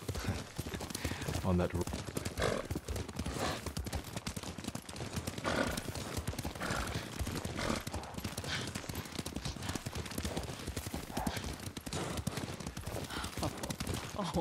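Horse hooves clopping steadily while riding in Ghost of Tsushima, a continuous rapid galloping rhythm throughout, with voices talking over it.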